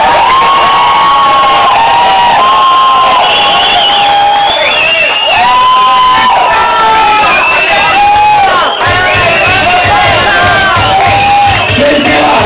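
A loud crowd at a Halloween costume contest in Duitama, Boyacá cheers, whoops and shouts continuously for a prince costume, high children's screams riding over the dense roar throughout.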